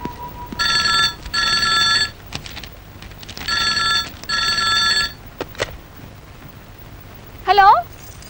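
Two long bursts of an old landline telephone bell ringing in a Kannada film scene, each burst a loud, rapid metallic trill, followed by short clicks and a brief chirp.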